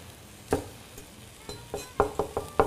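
A kitchen knife chops fresh coriander on a cutting board, a series of crisp irregular taps, a few spaced then a quicker run of four or five, close and fairly quiet with no talk.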